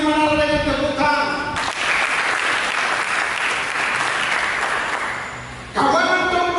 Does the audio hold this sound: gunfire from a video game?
no